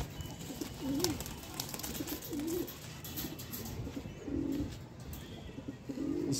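Pigeons of a prized breed coo in soft, repeated rolling calls, several spaced phrases at moderate distance over faint background noise, with no talk.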